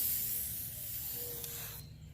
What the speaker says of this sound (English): I'm just going to spray a light coat of this on this surface now.